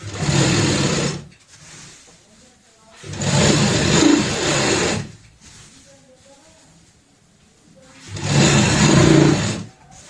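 Electric sewing machine stitching a designer bed sheet, running in three loud whirring bursts of a few seconds each, separated by pauses where a voice talks quietly.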